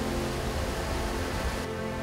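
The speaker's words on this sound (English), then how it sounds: "Skrodinski Buk, the longest waterfall in Europe, comprises many smaller cascades." Skradinski Buk waterfall on the Krka River in Croatia, its many cascades producing a dense, continuous roar of falling water that stays loud and steady throughout.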